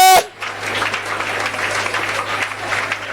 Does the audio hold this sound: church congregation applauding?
yes